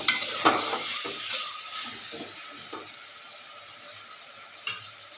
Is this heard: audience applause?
no